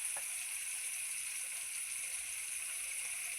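Onions sizzling in a pan with turmeric powder, a steady hissing fry that holds at a fairly even level throughout, with no voices over it.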